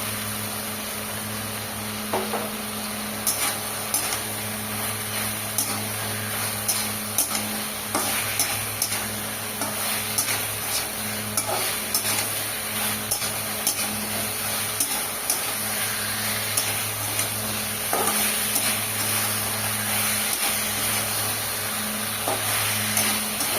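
Fried teasel gourd pieces sizzle steadily in oily, cooked-down spice masala in a pan, with frequent stirring scrapes and clicks over a constant low hum.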